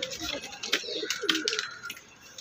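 Close, busy pigeon sounds: soft coos mixed with fluttering and scuffling, brief and fairly loud.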